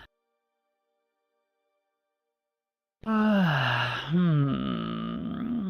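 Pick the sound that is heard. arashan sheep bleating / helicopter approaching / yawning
yawning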